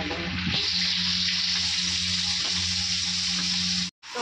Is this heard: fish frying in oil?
yes